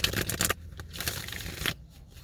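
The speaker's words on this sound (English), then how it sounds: "I'm going to just shuffle this back into the deck." A tarot card is slid back into the deck and shuffled, giving brisk papery riffles and soft card slaps in short bursts, close and fairly loud, with no talking.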